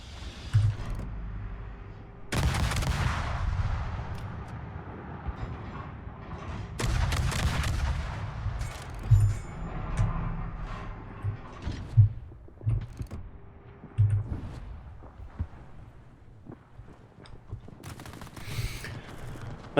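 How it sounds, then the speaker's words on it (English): Nebelwerfer rocket launcher firing in a naval combat video game: heavy booming launch bursts repeat at irregular intervals over a continuous low rumble, with some bursts coming in quick clusters. "Nebelwerfer gestartet."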